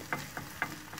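Tapioca cooks in a pan while a spoon arranges it along the pan's edge, giving a faint sizzle broken by three soft scraping strokes over about a second, with no voices.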